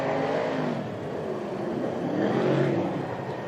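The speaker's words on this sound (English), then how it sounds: "Adam LZ goes around the course." A Formula Drift car, a Mustang RTR, drives the course in a close, loud, continuous engine roar with shifting pitch that swells and eases over a few seconds.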